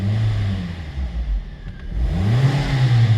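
A 2007 Kia Sportage with a 2.0 liter engine runs steadily up close, its engine note rising and falling as it revs, with no talking.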